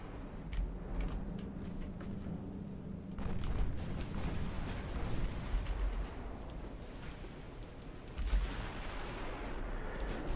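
Naval gunfire at a battleship in the video game Ultimate Admiral Dreadnoughts: dull booms and rumbling salvos roll over a constant low battle din, with sharp clicks scattered throughout and heavier blasts near the start and late on.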